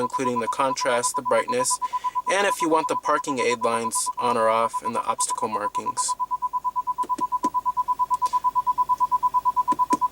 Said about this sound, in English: you also do have rear parking sensors, as you can hear it right now